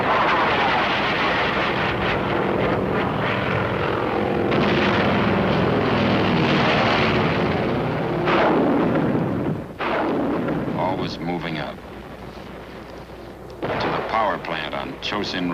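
Artillery barrage from Korean War battlefield footage near the Chosin Reservoir, infantry advancing under a fire curtain: a loud, continuous rumbling roar of booming blasts with sharp cracks, easing and thinning out toward the end, with no speech.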